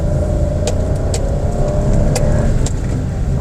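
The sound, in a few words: Toyota Raize 3-cylinder engine accelerating in first gear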